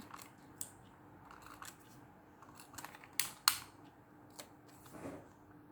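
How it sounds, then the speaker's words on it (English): Glue tape being rolled onto the corners of a Hobonichi journal page, with quiet close-up clicks, soft taps and a couple of sharper snaps from the applicator over faint room hiss. "So now I'm just getting my glue tape to tape the corners to stick it down."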